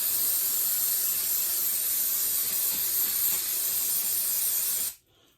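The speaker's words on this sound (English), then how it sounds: "Spray this down also." Steady, loud aerosol spray hisses onto a Toyota steering box to clear old oil, running continuously for about five seconds before cutting off abruptly.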